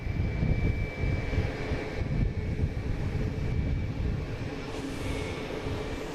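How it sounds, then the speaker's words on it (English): A JetBlue Airbus A220 arriving from Reagan rumbles steadily as it passes, a broad continuous roar with a faint high whine, moderately loud and unchanging for several seconds with no talking. "we got a JetBlue coming in from Reagan,"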